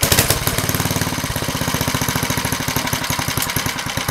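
A 1970s Ariens snowblower engine running at low throttle, a loud, close, steady rapid chugging with an even pulsing rhythm throughout.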